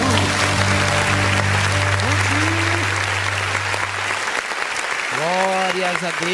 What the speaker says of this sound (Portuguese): e as palmas exaltam o nome de Jesus